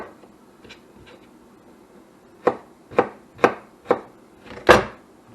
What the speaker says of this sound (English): Cut them in little slivers.